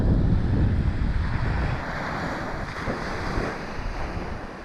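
Surf washing onto a tropical beach, a continuous broad roar of breaking waves mixed with heavy wind buffeting the microphone, loud and unbroken for the whole stretch.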